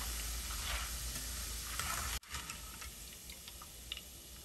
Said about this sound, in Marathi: आपल्याला ह्या हलक्याशा ब्राऊन होईपर्यंत तळायच्या आहेत